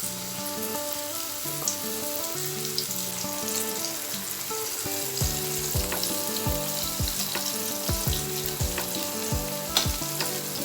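Slices of raw banana deep-fry in hot oil over a medium flame while being made into crispy chips, giving a constant loud sizzle broken by sharp crackles and pops as pieces drop in.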